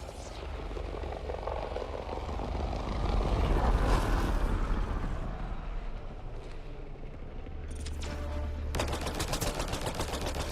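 Sustained gunfire from a Mass Effect: Andromeda shooter, with dense rapid shots over a constant low rumble of combat noise and a burst of sharp automatic fire toward the end.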